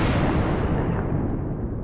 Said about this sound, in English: That explosion has been brought to you by my good friend Erin Marvel